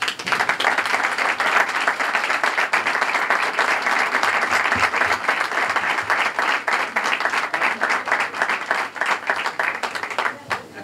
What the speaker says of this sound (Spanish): Un aplauso para Maritere.